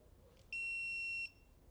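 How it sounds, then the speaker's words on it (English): A dog training collar gives a single electronic beep, a pure steady high tone lasting under a second against a quiet background. "the training collar, what all does this do? It'll beep."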